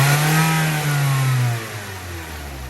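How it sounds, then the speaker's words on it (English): Car engine being diagnosed for a cylinder 2 misfire, held at a steady throttle around 2,000 RPM: a loud, continuous mid-range drone that sags slightly partway through, alone with no talk. "Now go ahead and hold a steady throttle,"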